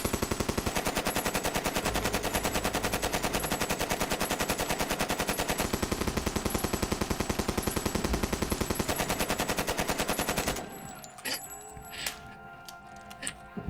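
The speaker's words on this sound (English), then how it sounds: "Is gunfire in the workplace really necessary, Avatar?" Rapid, continuous automatic gunfire in a video game rattles for about ten seconds, then stops, leaving scattered softer sounds.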